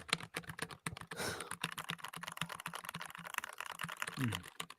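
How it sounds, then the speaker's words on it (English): Rapid, continuous clicking of keys on a mechanical keyboard, close and fairly quiet, with an uneven rhythm of keystrokes and a brief murmur near the end. "who has the better mechanical keyboard, Regan or Matthew? Okay, just type"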